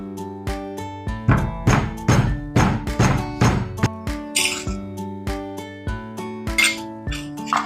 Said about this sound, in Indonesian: lengkuasnya cukup kita geprek aja ya